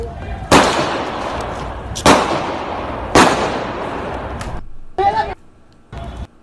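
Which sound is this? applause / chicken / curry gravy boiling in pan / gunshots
gunshots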